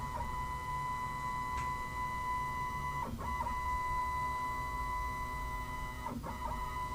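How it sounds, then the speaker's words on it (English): A Shapeoko CNC machine fast-jogging emits a steady motor whine that is interrupted by brief stutters and pauses at about the three- and six-second marks, sounding continuous and close. "Now I'm going to use the fast jog and listen for the machine to kind of stutter at points."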